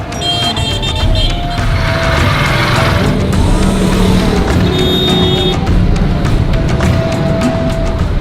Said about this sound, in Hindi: लाहौर में भारी ट्रैफिक से बचने का दूसरा तरीका गलियों में प्रवेश करना है।